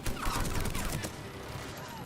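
Gun turrets firing in the video game Mass Effect 3: a short, dense burst of rapid shots that fades into a rumbling wash of low noise.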